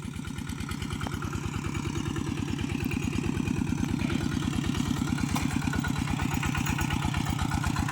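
A farm tractor engine runs close by with a fast, even chugging pulse that grows slightly louder and holds steady throughout, with no talking.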